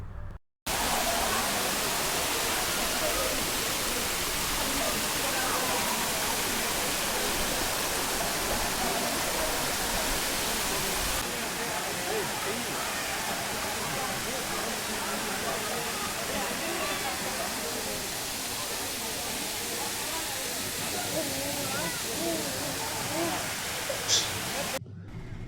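Jalagamparai waterfall in the Yelagiri hills roars as a steady, loud, close rush of falling water, continuous and broadband throughout, with no talking.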